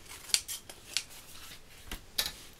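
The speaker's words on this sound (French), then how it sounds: "Ah, le massicot." A paper trimmer slices paper for a handmade birthday card, giving several short, crisp cutting snaps spaced irregularly, close and fairly quiet, with no talking.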